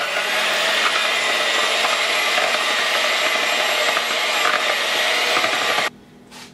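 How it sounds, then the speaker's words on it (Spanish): Electric hand mixer whipping egg whites until thick in a bowl, a continuous loud, even whirring drone that cuts off abruptly near the end, with no talk. "Lo vamos a batir hasta dejarlo así bien espesito"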